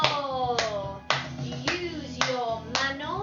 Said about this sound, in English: Use your manos and clap